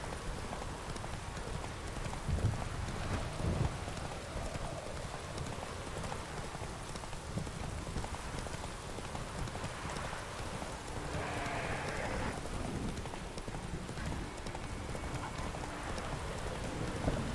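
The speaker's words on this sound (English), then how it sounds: "It is still raining." Steady rain falling throughout a scene in the video game The Witcher 3: Wild Hunt, a constant even hiss with faint low rumbles underneath and no speech.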